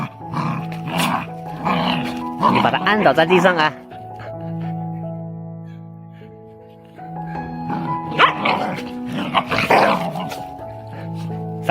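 Dogs scuffle and growl with occasional barks on a mountain farm, the snarling bursts coming close and loud while people talk and shout encouragement throughout.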